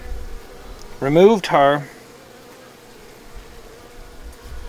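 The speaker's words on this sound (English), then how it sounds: "I'm now going to gather up the swarm." A honeybee swarm hums in a steady, low buzz after a downpour. The buzzing stays close and constant, and a short bit of speech sits over it.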